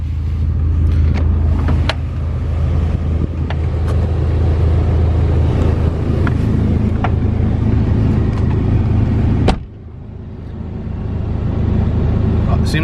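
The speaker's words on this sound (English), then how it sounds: "That's a funny sounding single cam." A single-cam all-motor Honda Civic engine idles steadily and loudly up close, with a low, even rumble that stays constant before briefly dropping and settling back.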